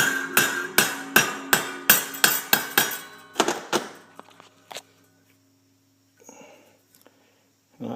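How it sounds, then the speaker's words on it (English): A hammer strikes a metal rebar bar held in a vise, ringing out about a dozen sharp, evenly spaced metallic blows. The blows thin out into a few scattered taps, then near-silence with faint movement. "You just take a hammer and finish it off that way."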